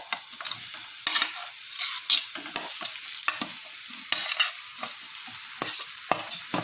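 Cut potatoes for a vegetable stir-fry going into hot oil in a frying pan, a bright, steady sizzle close up, with repeated quick scraping stirs and clatters of the spoon against the pan and no voices.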